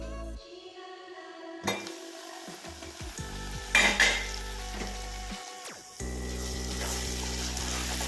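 Ladyfinger (okra) masala in a curd-based gravy simmering covered over a low gas flame, with a steady close sizzle and frying hiss, a few clinks of a pan lid and utensil, and a brief louder stir partway through.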